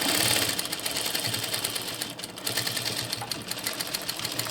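A sewing machine runs steadily, stitching a doll's legs in place with a brief reverse backstitch. The motor whirs continuously at close range, with a short dip partway through.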